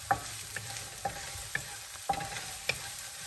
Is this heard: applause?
no